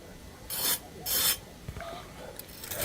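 A knife cuts into the seared crust of a cooked hamburger patty, giving two loud, rough rasping scrapes followed by softer crackling and scraping, with no talk.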